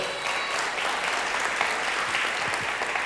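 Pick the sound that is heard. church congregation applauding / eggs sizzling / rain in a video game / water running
church congregation applauding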